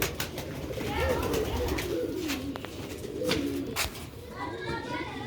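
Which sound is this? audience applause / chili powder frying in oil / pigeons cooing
pigeons cooing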